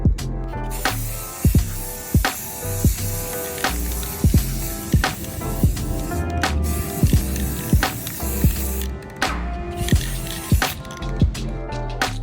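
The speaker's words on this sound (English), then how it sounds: "you can spray both sides without having to let one dry" Repeated hissing bursts of an aerosol spray-paint can coating drawer handles, short and long sprays with clicks and light knocks between them, close by.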